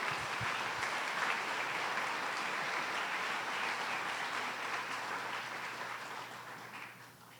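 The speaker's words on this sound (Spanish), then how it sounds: "Denle un gran aplauso a nuestro Rey" A church congregation applauds during a Sunday service, steady clapping from many people that fills the room and gradually fades toward the end.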